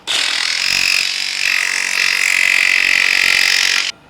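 A jigsaw fitted with a metal-cutting blade rips through spiral metal ductwork in one loud, sustained, rasping cut of about four seconds with a slight dip midway, close and alone.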